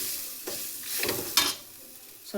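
Grated coconut fries in a pan with a soft, continuous sizzle, broken by several scraping stirs of a spoon and a brief louder clink near the middle.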